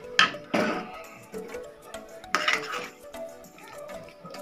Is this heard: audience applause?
no